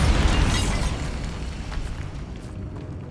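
A Bombarda blasting spell explodes in a dungeon catacomb in Hogwarts Legacy on PS5, one loud, close boom that erupts at once and rumbles away over a few seconds, with no voices.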